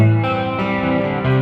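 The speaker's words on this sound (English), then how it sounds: "Let's try the chorus sound." An electric guitar plays through a chorus effect on an original Line 6 Pod amp modeler, sustained chords shifting a few times with a buzzy, distorted tone, loud and close.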